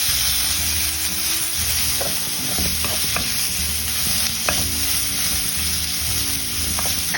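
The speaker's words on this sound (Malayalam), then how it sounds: "ഇഞ്ചി വെളുത്തുള്ളി ഇടുന്നുണ്ട്, ചതച്ചതാണ് വരണം. ഒന്ന് പച്ചവാസന പോട്ടെ." Crushed ginger and garlic frying in a pan while making chicken balls, with a steady close sizzle and intermittent stirring scrapes throughout and no talking.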